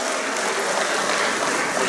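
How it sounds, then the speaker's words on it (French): Loud, dense audience applause fills a banquet hall at a Douala football association awards evening, a continuous close roar of clapping hands with no break. "On applaudit s'il vous plaît, on applaudit,"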